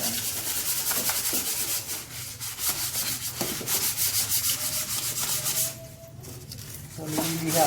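Sandpaper rubbed back and forth along the edge of a piece of wood in carpentry work, producing repeated close, rasping strokes with a brief pause before the scraping resumes.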